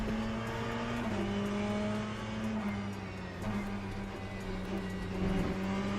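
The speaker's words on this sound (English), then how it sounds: "The note of the engine in this sounds the same all through the RPMs." A race car engine in a sim-racing video game hums steadily with an even, unchanging engine note and small pitch shifts as it shifts gears, moderately loud and continuous with no talk over it.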